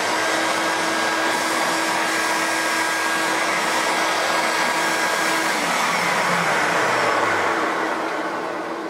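A vacuum cleaner with a newly fitted HEPA filter runs continuously, a loud close whooshing roar of suction that holds steady and then eases slightly toward the end.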